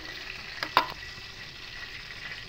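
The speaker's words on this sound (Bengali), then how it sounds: "এবার এই তেলের মধ্যে গোটা ফোড়নে গরম মশলা দেবো" Whole garam masala spices (fennel, cumin, cardamom, cloves, cinnamon) dropped into hot oil, a faint low frying hiss with a couple of brief sharp crackles early on, no voices.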